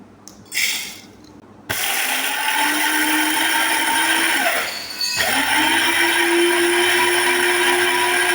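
An electric grinder whirs loudly and continuously as it grinds roasted nuts into powder, with a brief pause and restart partway through and a higher pitch as the load eases.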